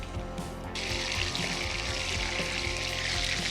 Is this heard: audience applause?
no